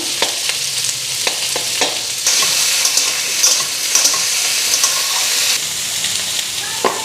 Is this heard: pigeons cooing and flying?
no